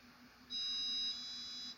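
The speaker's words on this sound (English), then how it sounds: "There's the beep saying it's found calibration point number 1." An electronic beep from an EME dish antenna's upgraded controller as it reaches a calibration point, a steady high tone lasting just over a second over a low background hum.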